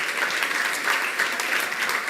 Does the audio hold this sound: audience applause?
yes